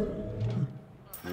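A Venusian tiger roar in a Two Point Hospital radio zoo advert, a brief low growling roar at moderate level that fades out before a short burst of other sound.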